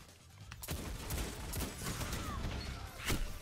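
Hand cannon fire in Destiny 2 multiplayer gives a burst of loud, sharp shots, several rapid cracks mixed with game effects and impacts, dense and up close.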